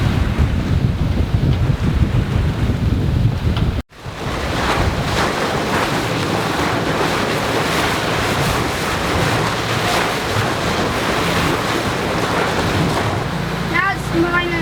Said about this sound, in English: It's a beautiful 15 knot wind, yet they still haven't got the sails up.